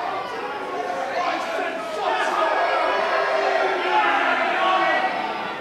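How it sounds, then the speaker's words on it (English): Wrestling arena crowd reacting to wrestler Charlie Rage's entrance with a steady murmur of chatter and jeers that swells slightly midway, with an announcer talking over it. "And this crowd not taking too kindly to him."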